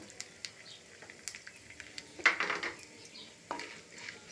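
Chana dal, urad dal and dried red chillies frying in a pan, giving a soft sizzle with occasional stirring clicks and scrapes, one louder burst of sizzling midway, close and with no talking.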